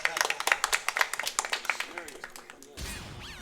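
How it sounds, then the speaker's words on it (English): Scattered audience clapping at a live speedrun event for Tony Hawk's American Wasteland, a quick run of sharp claps fading over about two and a half seconds, then a brief burst of voices. "Clapping for my misfortune, that's fine"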